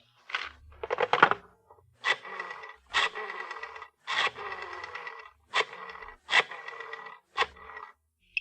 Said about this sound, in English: The telephone book. Listen, Mr. Avery. The sound of the flipping pages.